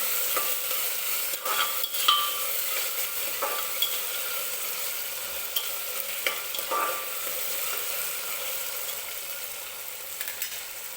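Field beans (pavta) frying in oil with rice for masale bhat, a steady broadband sizzle with scattered stirring scrapes and clicks, close and continuous with no talking.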